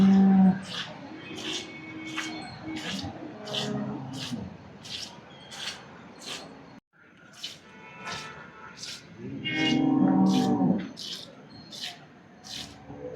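Cows at the Sardar Nagar cattle and buffalo market moo in several drawn-out, fairly close calls, the loudest near the end, over a busy crowd with steady talking and a repeating rhythmic clatter.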